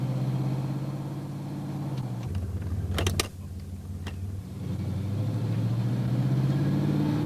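A car with a GM 2004R automatic transmission on a road test, its engine droning steadily from inside the cabin, with the pitch stepping down and climbing again as it shifts, plus a few short clicks midway.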